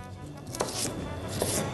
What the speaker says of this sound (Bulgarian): Нарязвам насипно.